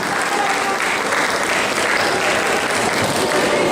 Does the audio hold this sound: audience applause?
yes